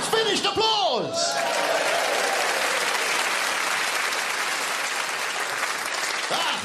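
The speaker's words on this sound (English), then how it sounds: "It's finished! Applause!" Loud, sustained audience applause at a comedy performance, dense and steady throughout, with a brief voice and whoops at the start.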